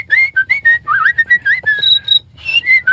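A human voice imitates a cricket, opening with bright whistled chirps that rise and fall in quick repeated pulses, loud and close, with no other sounds around.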